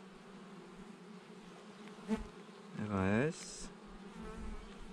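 Honeybees hum steadily at an opened hive during an inspection of young bees and brood, a close, soft insect drone running under a brief spoken word and a short tonal sound.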